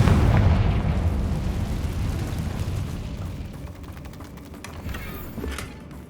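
The Confringo fire spell from Hogwarts Legacy erupts in a heavy, rumbling explosion that fades slowly over several seconds, with crackling debris near the end.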